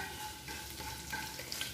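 Dried whole red chillies and mustard seeds sizzle and crackle in hot oil, a soft continuous frying hiss with faint spits and pops, with nobody speaking.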